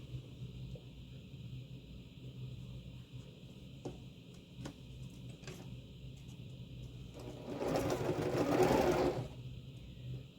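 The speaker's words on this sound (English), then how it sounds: "so now I'm going to start sewing those together." A sewing machine stitches the rows of a quilted pillow top together, first as a quiet hum with faint ticks and then as a louder burst of fast stitching near the end, heard close and alone.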